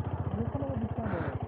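A motorcycle running at a parking area by a market near Pelling, Sikkim, its engine giving a steady, close, low rhythmic putter throughout, with a brief rise in revs near the end.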